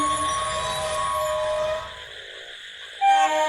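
A train pulls into Mohanpur village station in the evening, its steady horn-like tones and rumble carrying for nearly two seconds, falling quieter, then a fresh loud blast near the end.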